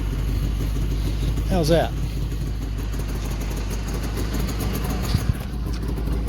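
A two-stroke car engine idles steadily in a shop after a spring cleaning, a continuous low burble running throughout, with a brief voice heard over it partway and a small knock near the end.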